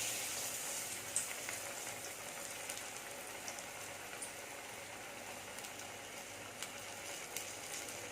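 Masala vadai dropped one by one into hot oil, frying with a steady soft crackle and scattered faint pops, moderately close and continuous with no talk.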